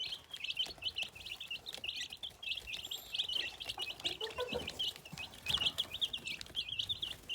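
Young Brahma chickens, a slow-growing breed, give off a steady run of high, rapid peeping chirps at low volume, with faint rustling and occasional soft knocks underneath.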